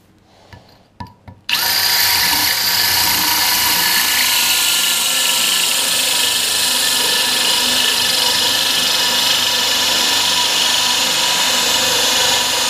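A diamond-grit hole saw on a power drill cuts a fast hole. The drill roars in loudly after a few short starts and grinds on steadily to the end.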